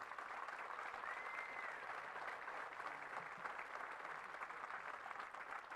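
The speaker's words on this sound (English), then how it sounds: "Let's give these cadets a round of applause" Crowd at an Army cadet advanced camp graduation ceremony on an outdoor field applauds the cadets, a broad, even roar of many distant hands sustained without break from start to finish.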